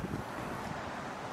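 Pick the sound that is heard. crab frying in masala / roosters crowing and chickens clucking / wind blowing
wind blowing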